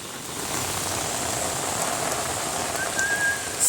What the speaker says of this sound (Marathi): जोरदार तुफान पावसान मारूक सुरुवात केला आमच्यावरती